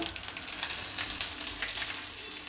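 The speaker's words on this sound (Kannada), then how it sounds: "ಉದ್ದಿನಬೇಳೆ ಕಡಲೆಬೇಳೆ ಎರಡೂ ಸ್ವಲ್ಪ ಕೆಂಪಾಗಿ ರೋಸ್ಟ್ ಆಗಬೇಕು" Urad and chana dal roast in hot oil with curry leaves, a dense crackling sizzle that stays close and steady for a couple of seconds with no talking.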